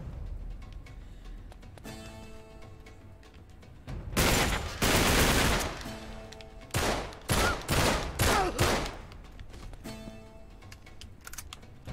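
Bursts of rapid gunfire crackle loud and close during a firefight in the video game Uncharted: Drake's Deception. Several volleys come in short clusters, with quieter game ambience and faint tones between them.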